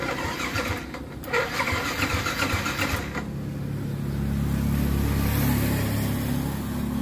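Yamaha MX King motorcycle engine cranking with difficulty through a weak battery, a strained starter whirr for a few seconds before the engine catches and settles into a steady, close idle hum.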